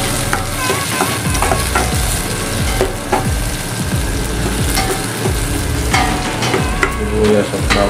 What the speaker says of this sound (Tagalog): Sibuyas at bawang itong ginisa ko mga kaibigan